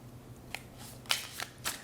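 Tarot cards are shuffled in a few quick, separate riffling bursts, close and fairly soft, with short pauses between them.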